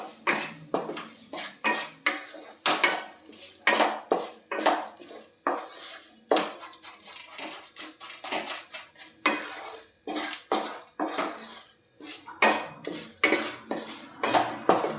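Roasted rajgira flour being stirred with grated jaggery in a pan off the heat, with steady scraping and clinking of a spoon against metal in repeated strokes, fairly close and alone.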